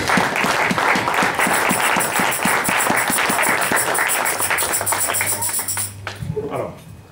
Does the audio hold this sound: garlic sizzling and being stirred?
no